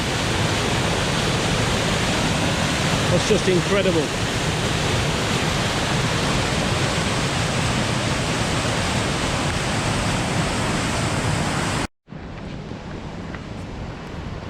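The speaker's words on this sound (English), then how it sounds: "Wow, the power of that water going through there." Loud, constant roar of rushing floodwater in Midhurst after Storm Dennis filling the whole scene, with a brief cut near the end; a voice speaks briefly over it.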